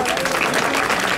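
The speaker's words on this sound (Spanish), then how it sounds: "Tenemos un aplauso para ellos, por favor." Brief burst of crowd applause for 16th-century artillery reenactors, dense clapping close and steady, with a faint murmur of voices mixed in.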